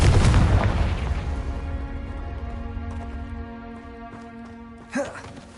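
A fire spell explodes in Hogwarts Legacy with a loud, deep boom at the start that fades into a long ringing tail, followed by a smaller burst near the end.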